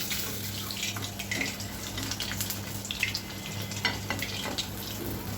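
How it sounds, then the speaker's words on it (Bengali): Momos deep fry in a pan of oil, giving a steady bubbling hiss with scattered crackles and pops, close and continuous, with a low hum underneath. "শুধু উপরের বাইরের দিকটা ভাজা হলেই হবে"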